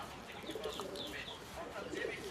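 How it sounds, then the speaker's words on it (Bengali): A pair of Rajshahi local Giribaz pigeons coo softly and repeatedly nearby, with voices murmuring in the background. "এই হচ্ছে এক জোড়া কবুতর"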